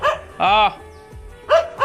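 A dog barks close by, two sharp, loud barks about a second apart, with a faint yip in between.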